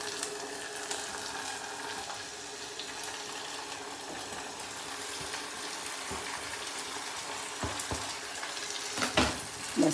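Cucumber pieces fry and sizzle in a pan for an Andhra-style curry with drumstick, brinjal and tomato, a steady hiss throughout with a few louder clinks and stirring bursts near the end.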